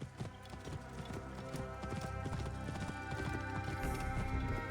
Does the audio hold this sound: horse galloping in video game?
yes